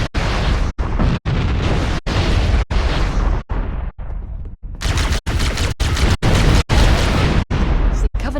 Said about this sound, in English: The Covenant are destroying the life pods.